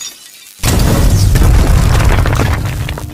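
A loud blast bursts in after a quiet half-second, sustained roaring rumble and crackle as a fuse blows in an Indian cartoon scene.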